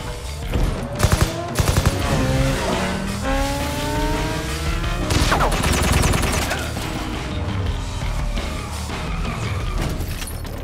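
A pistol fires in the 2016 Deadpool movie, a quick cluster of sharp shots early on amid roaring car engines, tire noise and a rising, sweeping tone that carries on loudly after the shots.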